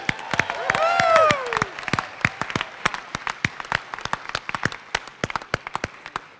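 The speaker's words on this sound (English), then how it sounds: "Big round of applause for all these folks." Audience at an annual awards and recognition ceremony breaks into applause, a dense burst of clapping that thins into scattered individual claps, with a brief voice rising over the start.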